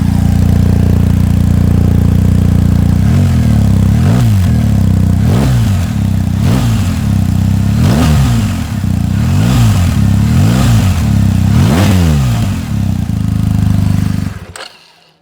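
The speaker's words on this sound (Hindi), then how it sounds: "Let's hear some exhaust note of BMW." A BMW GSA adventure motorcycle's boxer engine idles with a deep exhaust burble, then is revved repeatedly in a rhythmic series of about nine quick blips before cutting off, loud and close with no talk.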